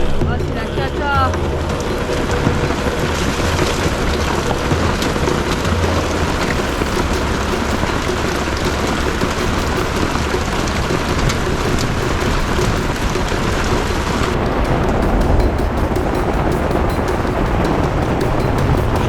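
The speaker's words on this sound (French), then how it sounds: "Il y a un orage des fesses. On est déjà sous 5 bons centimètres de flotte. Il y a de la grêle." Heavy rain and hail pound on a van roof during a thunderstorm, a dense, loud, continuous drumming that never lets up, with occasional rumbles beneath and voices talking over the downpour.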